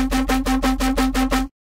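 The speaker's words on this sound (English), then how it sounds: "So the drum and bass sound on its own sounds like this." A drum and bass synth patch made in Serum plays alone: eight rapid, evenly spaced pulsing notes with a bright buzzy tone and deep sub bass, loud and dry, then cutting off abruptly into silence.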